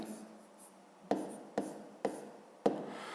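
Pen writing a fifth-grade division problem by hand on paper, with four sharp taps as strokes begin and soft scratching between them, close and quiet with no speech.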